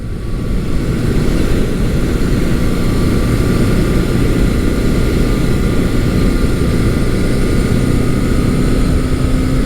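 A vintage Honda CB750 motorcycle is ridden at steady speed, giving a loud, constant engine drone mixed with heavy wind rush, close up throughout with no talking.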